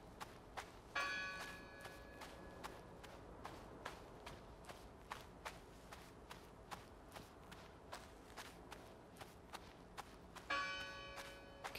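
Church bell in the game Draugen ringing in a quick, steady run of sharp strikes, with two brighter, longer-ringing peals standing out near the start and end; no one talks.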